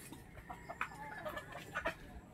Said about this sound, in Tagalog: So, ito yung mga inahin natin.